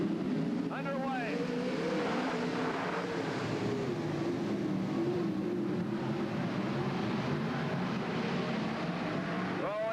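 NST sprint cars race in a heat race at Riverside Speedway, their engines a continuous loud, high roar with rising and falling pitch as they pass, while a commentator talks over the racing.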